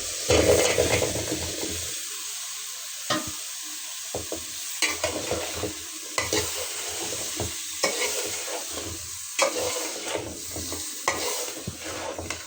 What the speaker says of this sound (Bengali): আমি চিংড়ি মাছটা ভালো করে কষিয়ে নিয়েছি এখন লাউটা দিয়ে দিব